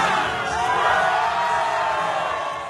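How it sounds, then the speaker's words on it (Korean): A crowd cheers and shouts at a OneCoin ICO celebration, where a big screen shows the ICO website. The roar is dense, steady and continuous throughout, swelling slightly in the middle. "그들은 함성을 지르며 환호했습니다."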